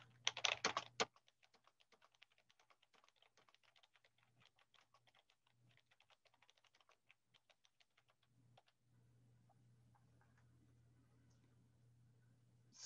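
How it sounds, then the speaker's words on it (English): Typing on a computer keyboard picked up by a Foscam W41 2K webcam microphone, a long run of light rapid key clicks followed by a quiet low background hum once the typing stops. "And now I'll do a little bit of typing so you can compare that."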